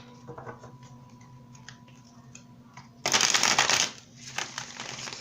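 Tarot cards are drawn and shuffled from a deck during a reading, producing quiet papery ticks followed by a louder, brisk riffling burst lasting about a second, then softer card handling.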